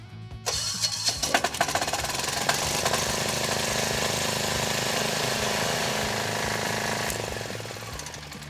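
A diesel generator cranks briefly after the key is turned, then catches and settles into a loud, steady rumbling run with a clattering, knocking character that continues close by without any speech.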